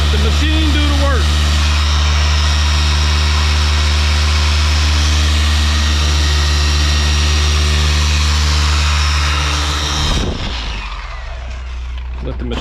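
An electric buffing machine polishes RV gel coat in a steady, loud motor drone with a constant low hum that runs unbroken for about ten seconds, then cuts off abruptly, leaving a quieter room tone.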